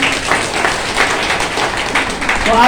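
Applause from a meeting audience in a hotel hall, a dense steady patter of many hands clapping at close range, with some voices mixed in.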